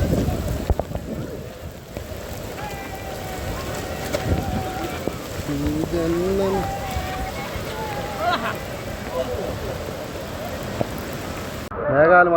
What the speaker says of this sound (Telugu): ఫుల్ వర్షం పెద్దదైంది